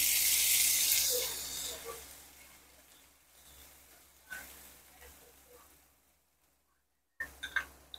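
Onion-coconut masala hitting hot oil in a pan, a loud hiss and sizzle at first that fades over several seconds, with a few clinks of a utensil near the end.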